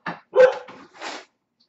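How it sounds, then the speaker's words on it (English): A pet dog barks indoors in a kitchen during a live cooking show, giving three or four short, fairly close barks in quick succession, with a brief gap in the middle. "our dog decided to bark right there"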